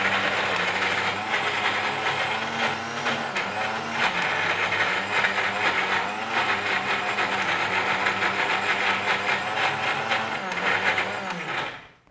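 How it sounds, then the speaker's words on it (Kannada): A mixer grinder runs loudly and steadily with a high whirring motor drone, then winds down abruptly at the end. "ಮಿಕ್ಸಿ ಮಾಡಿಕೊಂಡು"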